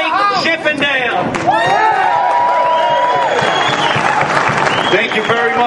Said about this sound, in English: let's have a big round of applause. Representative Mike Chippendale